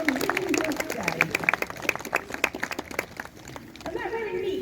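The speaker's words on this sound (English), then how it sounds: "Give Pilgrim a big round of applause." Scattered outdoor clapping from spectators at a falconry display beside an abbey, individual claps fairly distinct and uneven, mixed with voices talking over it and fading briefly before picking up again.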